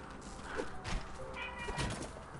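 A house cat gives a few short meows near a microphone during a gaming session, fairly close but quiet, with light bumps and room noise around them.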